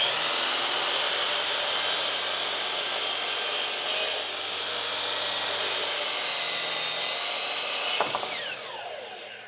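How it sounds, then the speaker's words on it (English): A new miter saw cuts a board to 36 inches, running as a loud, steady whine for about eight seconds with no voices, then the blade spins down sharply at the end. "All right, first cut on the new miter saw."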